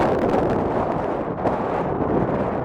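Wind gusting at a mountain lake on a high trail, a steady loud rush buffeting the microphone throughout, with no speech.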